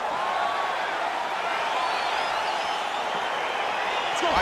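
A UFC 4 video game arena crowd roars in a steady, dense wash of cheering and noise as the fight begins, fairly distant and continuous throughout.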